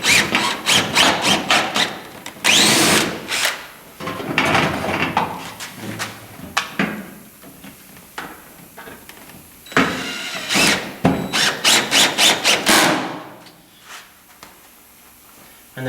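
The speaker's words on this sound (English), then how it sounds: "You're just going to use your regular roofing screws to go ahead and put your" Roofing screws driven into roofing panels on a custom 8x14 penthouse chicken coop, bursts of drill whine and rattling metal with scraping and knocking between them, loud and close.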